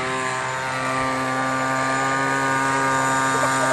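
A small biplane's propeller engine drones steadily nearby, a loud continuous buzzing hum with a strong tonal whine and no pauses.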